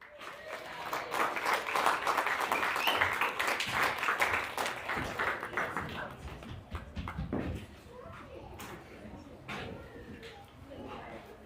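A crowd at a BMX club awards night claps and cheers for a winner, loud sustained applause that fades to scattered claps, with voices talking over it.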